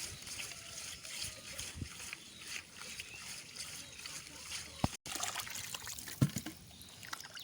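Fish are scraped and cleaned under running water: a continuous close trickle and splash with irregular scraping and knocking bursts throughout, and no talking.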